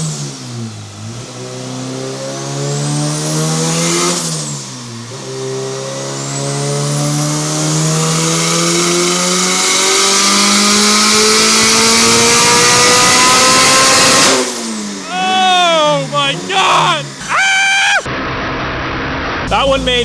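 A turbocharged Honda Civic engine screams up through its revs on a Mustang dyno, pitch climbing steadily through repeated pulls, then blipping and popping off throttle, loud and close.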